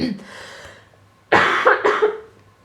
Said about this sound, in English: now I started coughing